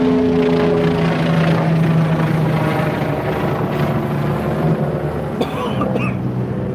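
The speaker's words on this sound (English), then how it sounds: "Got the police, the helicopter up there." A loud, steady police helicopter drone overhead fills the whole stretch, with rotor rumble constant and a brief clatter near the end.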